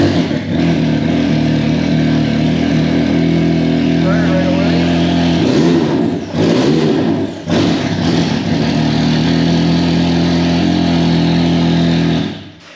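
A Can-Am Maverick X3 side-by-side engine fires up after new spark plugs and runs at a steady, loud idle close by, with a couple of brief revs or dips near the middle.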